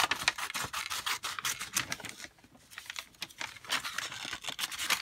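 Scissors snip through paper while cutting out pieces for a Christmas scrapbook junk journal, giving quiet, close, rapid crisp cuts and rustling that run nearly continuously with brief pauses.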